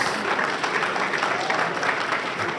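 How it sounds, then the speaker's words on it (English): Warm audience applause at a CMS Grammar School alumni gathering in Houston for an 87-year-old surgeon and professor: dense, steady clapping from a crowd, loud and unbroken. "Please give him a warm applause."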